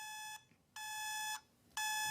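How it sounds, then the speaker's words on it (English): An electronic alarm clock rings in bright, harmonic tones that start and stop in bursts, sounding close and steady in a quiet room. "you carried your alarm clock with you all day long, with it going off in the background"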